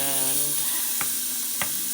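Braised pork belly frying in a hot pot, a steady loud sizzle and hiss with two short sharp crackles near the end, no voices.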